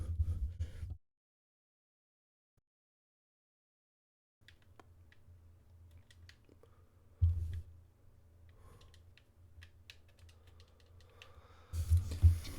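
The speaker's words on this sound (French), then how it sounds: "je viens de me dire que vous entendez de ouf mon clavier" Clicks of computer keyboard typing come up close, scattered light taps over a low hum, with a stretch of silence near the start and a few louder bumps.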